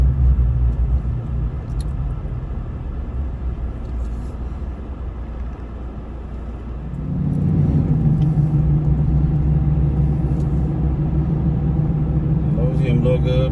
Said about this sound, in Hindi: जो ये मैं चला रहा हूँ गाड़ी ये भी फोर्ड की है, मगर ये डीजल में है।